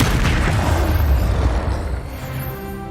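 A Confringo spell explodes in the Hogwarts Legacy video game, a loud low boom that rumbles and slowly fades over a few seconds.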